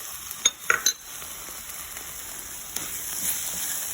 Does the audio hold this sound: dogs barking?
no